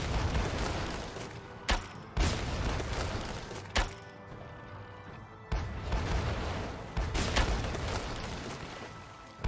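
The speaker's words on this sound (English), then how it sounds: "front cannon." Ship cannons fire in the naval battle game Sailing Era, sounding as several sharp booming shots at irregular intervals over a continuous churning background of battle noise.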